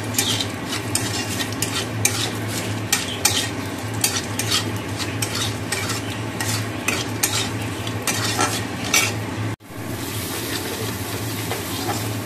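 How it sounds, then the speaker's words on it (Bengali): Potato dum masala being stirred and fried in a pan, steady sizzling with rapid, continuous scraping and clinking of a spoon against the pan, close and loud, without any voices. "আলুর দমের মশলাটা কষে নিলাম"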